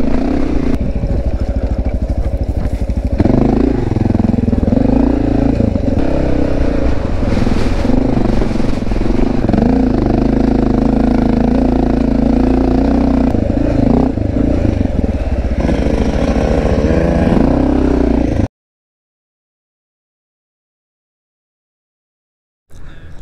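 A Honda XR650L motorcycle engine thumps loudly and steadily while riding on a beach, close and continuous with small throttle changes, then cuts off abruptly into silence.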